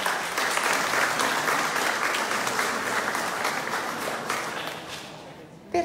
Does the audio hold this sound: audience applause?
yes